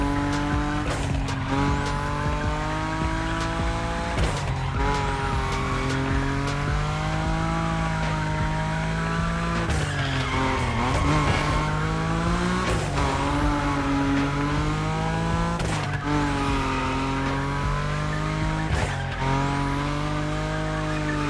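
Nissan Nismo drifting in the racing game The Crew Motorfest, high engine revving with long sustained tire squeals that rise and fall through repeated slides, continuous and loud.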